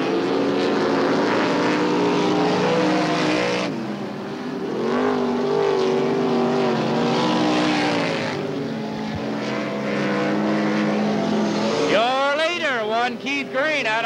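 A black race car at a 1989 dirt speedway heat drives back toward the pit, its engine a loud, steady roar with shifting pitch, while an announcer talks over the racket.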